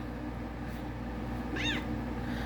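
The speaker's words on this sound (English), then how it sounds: "Sorry, there's cat drama." A house cat gives a single short, rising-and-falling meow over steady indoor room hum, fairly close but not loud.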